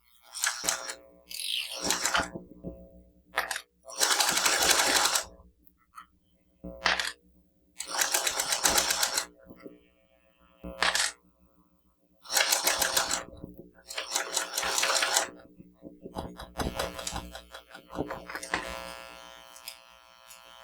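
A sewing machine top stitching raffia at one eighth of an inch runs in about eight short buzzing bursts of one to two seconds, separated by quiet pauses, close and fairly faint.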